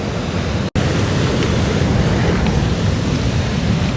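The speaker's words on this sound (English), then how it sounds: "as you can hear the breeze a rumble" Steady rumbling wind by the sea during a major flood in Portland, Jamaica, broad and continuous with surf underneath, briefly cutting out near the start.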